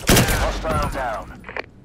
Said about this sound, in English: Blind firing around corners is so much fun. That's what I was just doing.